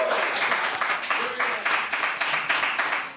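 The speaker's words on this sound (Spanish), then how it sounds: "Aplauso para la verdad." Studio audience on a talk show claps in a loud, fairly rhythmic wave, the claps pulsing in regular bursts close to the microphones for about three seconds.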